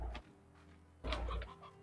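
An elder hen in the video game Slime Rancher gives two short clucking bursts with a quiet pause between them, close and fairly soft.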